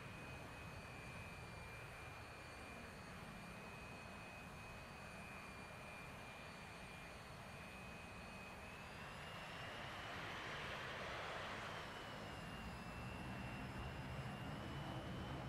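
Military aircraft taxiing in the DCS World flight simulator, a steady jet engine whine and roar that holds constant, then swells briefly louder partway through before settling.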